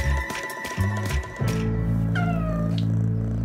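Kittens meow loudly and close, a few drawn-out cries overlapping near the start, then one long sustained meow with a sliding pitch.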